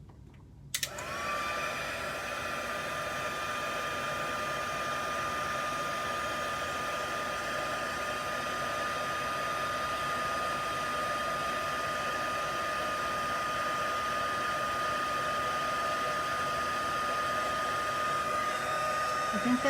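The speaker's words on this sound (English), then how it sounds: "now I'm going to take the heat tool and make it poofy" A crafting heat tool whirs on steadily at close range, blowing hot air to puff up puff paint, a loud continuous airy hum that starts abruptly and runs alone without talk.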